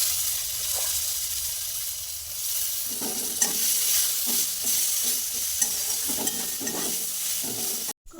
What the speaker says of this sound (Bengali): কেটে রাখা কলমি শাকের ডাঁটা দিয়ে দেবো।